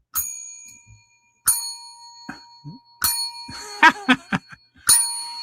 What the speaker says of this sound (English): let's ring the bell 4 times for you.